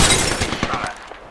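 Rapid gunfire from the video game Apex Legends, a dense burst of loud, close shots in quick succession that fades out over about a second.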